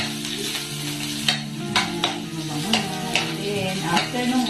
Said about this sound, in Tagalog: Pag okay na yung bawang, lagay na natin yung ating sibuyas, yung ating onions.